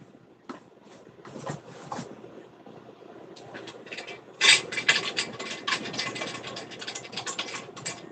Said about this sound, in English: A trenching tool.